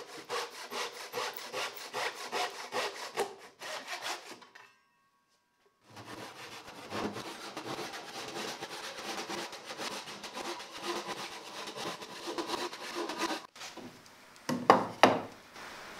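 Hand saw cutting reclaimed wood, close rhythmic back-and-forth rasping strokes, pausing briefly for a second of silence, then resuming in steady strokes until the cut finishes.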